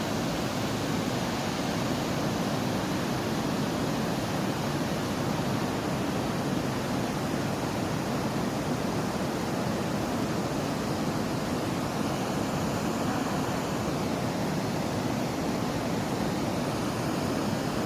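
A swollen river rushes steadily at a landslide site in Simpani, Pokhara, a loud, unbroken roar of churning water with no voices.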